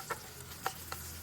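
Carrots fry in a pan with a soft sizzle, punctuated by three quick scraping stirs of a utensil against the pan, close and fairly quiet.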